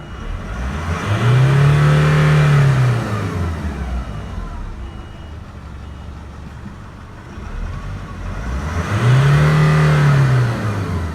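A Nissan Navara D40 pickup truck engine revs up twice, pitch climbing and falling each time with a lull of idling between, close and loud.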